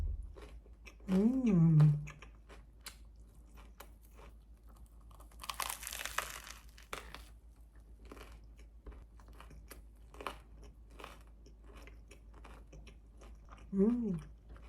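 A crusty baguette sandwich with ham, cheese, sun-dried tomato and whole-grain mustard is chewed near the microphone, with a cluster of crisp crunching in the middle and brief hums of voice at the start and end.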